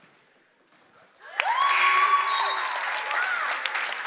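Crowd applause breaks out at a girls high school basketball tournament game, MIAA Division 3 Round of 16, Dover-Sherborn against Tantasqua, in a gym; a sudden burst of steady clapping swells loud and sustains with faint squeaks and voices underneath.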